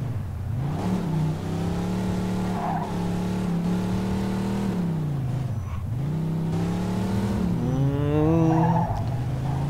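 A car engine in the video game Mafia II revs and drones steadily, rising and falling in pitch, with tires squealing through turns; no talking.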